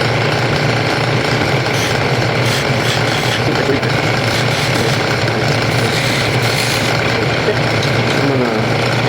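Wood lathe spinning a large chess pawn while a small gouge rolls the edges of a bead, giving a steady loud scraping and rubbing whir with a constant low hum throughout.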